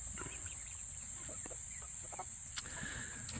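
Wyandotte chickens near a coop outdoors, clucking in scattered short soft calls over a steady high insect drone, with one sharp click partway through.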